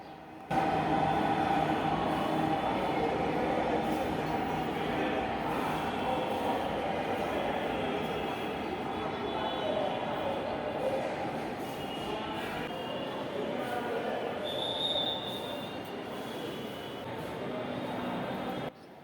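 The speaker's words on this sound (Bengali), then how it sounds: "ট্রেন একেবারে অল্প সময় দাঁড়িয়েছিল আবার ছুটছে" A train runs steadily with a continuous loud rumble and clatter of wheels on rails, a faint squeal rising briefly partway through.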